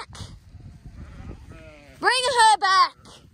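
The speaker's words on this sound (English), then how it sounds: "These are older sheep." Older sheep on a farm let out a couple of loud, close bleats that quaver in pitch, preceded by low background voices and shuffling.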